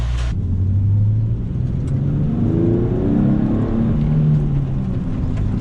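A Nissan 370Z NISMO in limp mode, after puffing white smoke, revs throatily and sweeps through rising and falling pitches, loud and close, with a brief burst of noise at the start.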